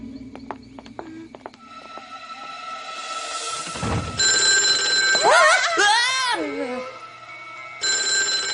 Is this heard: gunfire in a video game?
no